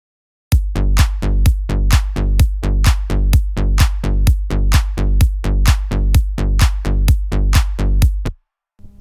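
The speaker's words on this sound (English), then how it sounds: "Kick on every beat, clap on every off beat" Four-to-the-floor electronic beat with a kick on every beat, a clap on every offbeat and a bouncy Melbourne bass loop, built on a Massive synth. The pattern runs as a steady, loud and punchy loop for about eight seconds, then stops.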